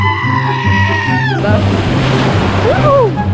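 Ocean wave breaking on the shore at Prainha beach in Arraial do Cabo, a loud close wash of surf that swells and hisses, with a voice over the first part.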